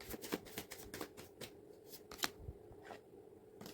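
A tarot card deck being shuffled close up: quiet, quick riffles and slaps of cards in irregular bursts, some sharper snaps among softer shuffles, with no speech.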